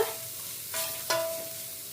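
Grated coconut roasting dry in a pan for rava laddu, with faint low sizzling and two brief spatula scrapes against the pan, heard close and alone.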